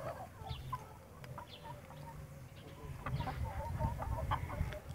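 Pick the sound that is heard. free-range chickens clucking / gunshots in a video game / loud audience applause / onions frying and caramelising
free-range chickens clucking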